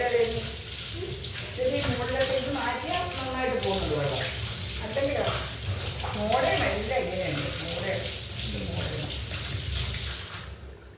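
Water runs steadily from a tap, splashing continuously for several seconds before tapering off; faint voices are mixed in beneath the flow.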